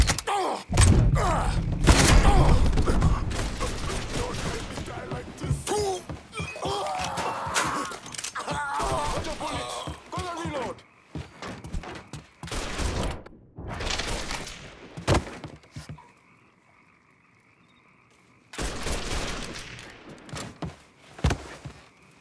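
Shotgun blasts and chaotic firefight noise in the video game Mafia 3, loud booming bursts clustered early, then scattered heavy shots and thuds between quieter gaps.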